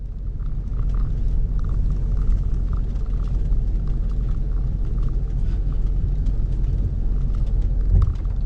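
Old RV engine rumbling steadily from inside the cab while driving between Ontonagon and Marquette, Michigan, a loud continuous low drone with road vibration and a brief thump near the end.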